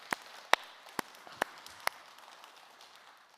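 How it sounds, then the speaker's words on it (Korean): A church congregation gives a few scattered claps, five or six distinct sharp hand claps spaced unevenly over a quiet room rather than full sustained applause, moderately near and fairly faint. "이럴 때는 박수 한번 주시는 거예요."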